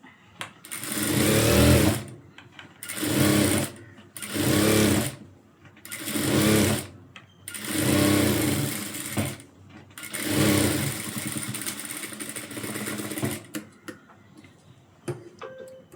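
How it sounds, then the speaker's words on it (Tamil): A sewing machine stitches a blouse in about seven loud, close bursts of rapid mechanical chatter, separated by short silent pauses, with a few lighter ticks at the end. "அமுக்கு தையல் போட்டு சுற்றி வந்து தையல் போட்டுக்கோங்க"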